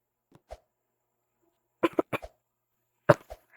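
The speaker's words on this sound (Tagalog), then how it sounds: "At umuubo nga ako." A person coughs in several short, dry bursts: a single cough, then a quick cluster of three or four, then another pair, separated by silence and sounding close.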